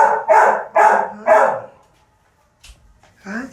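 A young puppy barks three times in quick succession, loud and close, followed by a pause and a softer whimpering yip at the end.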